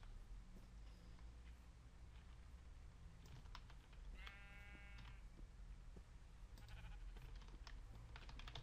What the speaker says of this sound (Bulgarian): Още овце.